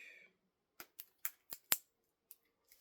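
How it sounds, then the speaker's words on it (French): A quick run of five crisp scissor snips cutting plastic, close and distinct, followed by two fainter snips after a pause. "Ciseaux, parce que je pense que..."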